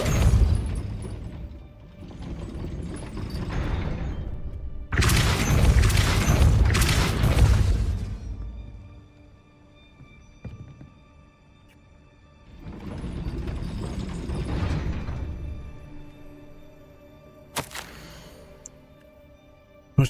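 A castle gate mechanism grinding and rumbling open after a Depulso spell in Hogwarts Legacy, with heavy, booming mechanical surges in several long waves and a sharp clank near the end, alone without talk.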